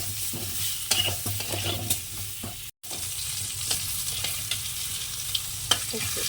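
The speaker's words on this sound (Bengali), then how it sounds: "একটুখানি আগে আলুটা ভেজে নেব তো দিয়ে দিলাম" Potatoes with turmeric sizzle steadily in a hot pan while a utensil stirs and scrapes now and then, close up, with one brief dropout midway.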